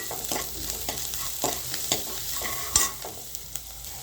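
Chopped onions salted and sautéing in a pan for a greens dish give a soft, steady sizzle, with a spoon stirring and scraping in light taps throughout, close and fairly quiet, with no talk.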